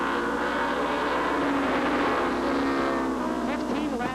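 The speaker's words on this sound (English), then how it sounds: "15 laps to be the distance for the baby grand stock cars" Baby grand stock cars racing at Seekonk Speedway, engines droning loudly and continuously with revving pitch changes as the pack passes, the roar persisting throughout.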